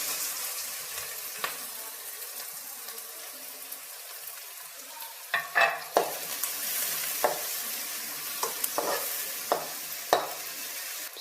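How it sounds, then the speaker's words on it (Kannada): Finely chopped onions, green chillies and spices fry in a pan for a fenugreek-leaf chickpea masala, a soft continuous sizzle broken by a series of sharp spoon clinks and scrapes as the mixture is stirred. "ಎರಡು ಈರುಳ್ಳಿ ಸಣ್ಣದಾಗಿ ಕಟ್ ಮಾಡಿ ಸೇರಿಸ್ಕೊಳ್ತಾ ಇದ್ದೀನಿ."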